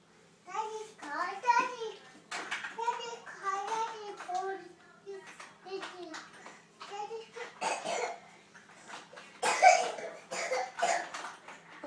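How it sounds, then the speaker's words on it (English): A young child coughs several times at close range, mixed with the child's own babbling and chatter in a home setting. "we got a horrible cough"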